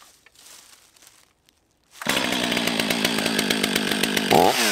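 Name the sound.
starting a STIHL 500i fuel-injected chainsaw by pull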